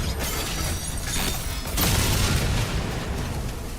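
A cannon is blown apart in the video game DOOM: The Dark Ages, a loud booming, shattering blast with crackling debris that swells and rolls on for a few seconds.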